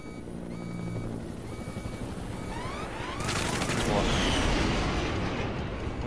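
A helicopter in the video game Metal Gear Solid V thrums under dense gunfire and rumbling, the racket swelling louder partway through while voices talk over it.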